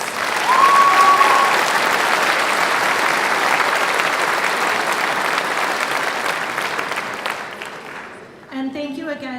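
An honors night audience claps loudly and steadily for about eight seconds, the applause thinning toward the end as a voice begins speaking.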